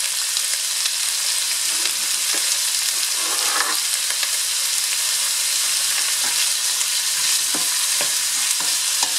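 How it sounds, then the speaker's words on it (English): Chopped garlic, bell pepper, onion, sweet peppers and culantro sautéing in a pan for Puerto Rican pollo guisado, giving a steady, dense sizzle with occasional soft stirring scrapes and no talking. "And now we are going to saute it"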